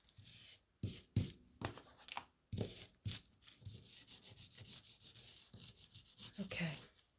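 Pencil colouring on paper, soft rubbing strokes in irregular bursts, close and quiet, with brief pauses between passes.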